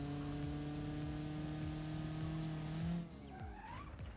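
A Doyler Beagle car in BeamNG.drive runs with a steady engine drone, then hits hard, its note breaking off into scraping, crunching noise and a short rising whine, loud and close with no talk.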